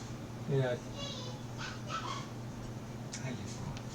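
In the game Dragon Age: Origins, kennel dogs give soft whimpers and brief whines, heard close but faint over a low steady hum, with a voice talking partway through.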